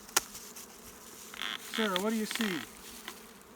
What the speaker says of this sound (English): Try to keep as many of the bees in the hive as you can.